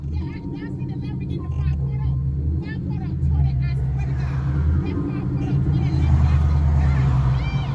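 A Ford Mustang GT accelerates hard on an expressway, a deep rumbling engine drone heard from inside the cabin, rising steadily while people talk over it.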